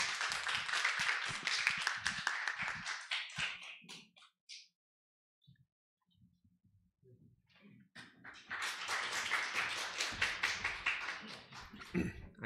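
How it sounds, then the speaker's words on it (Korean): Clapping from a seminar audience welcoming a guest lecturer, a burst of individual claps that fades into near silence with faint rustling, then a second fuller round of clapping swells up. "큰 박수로 맞이해 주시기 바랍니다"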